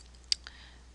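A computer mouse clicks while paging through a Pantone color palette in Corel software: one sharp, close click, then a second softer click a moment later, in a quiet room.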